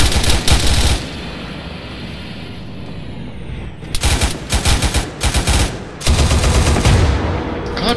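Gunfire in Arma 3 from an M1 Abrams crew position, loud rapid machine-gun bursts in several separate volleys with short pauses between them, heavy and close, over a low engine rumble.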